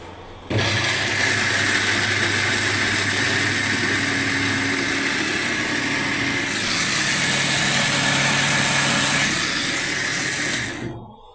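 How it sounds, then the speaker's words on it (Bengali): A steady, loud electric blender motor whirs as it grinds onion and green chillies, running continuously for roughly ten seconds with a slight shift in pitch midway before cutting off. "তো এখন আমি পেঁয়াজ আর কাঁচামরিচ ব্লেন্ডার করে নিচ্ছি।"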